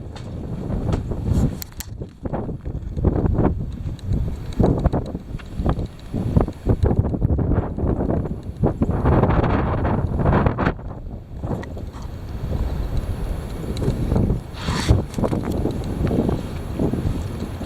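Heavy wind roars into the microphone in uneven gusts, a dense low rumble that surges and dips throughout with brief quieter gaps.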